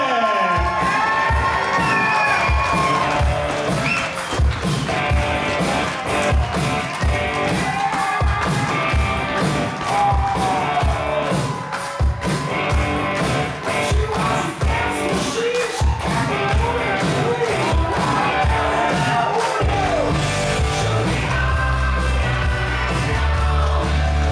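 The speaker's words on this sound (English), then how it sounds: "Let's get a big round of applause for the brand new Mr. and Mrs. Larson." Wedding guests clap and cheer loudly for a newly married couple, a dense sustained roar of applause, whoops and shouts that carries on for the whole stretch, with brief music at the end.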